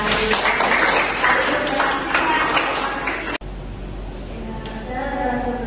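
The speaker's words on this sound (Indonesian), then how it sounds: "Tepuk tangan dulu." A classroom of students applauds in a scattered burst of clapping, fairly close and moderately loud, then drops abruptly to a quieter murmur of room noise for the remaining seconds.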